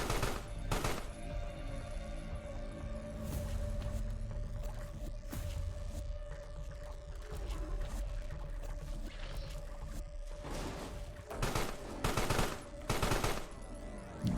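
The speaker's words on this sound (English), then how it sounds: "You need to stop shooting the floor." Enemies firing at the floor in the game Carrion, bursts of gunfire breaking out at irregular intervals over a low droning, rumbling game soundscape with a steady tonal hum, no voices.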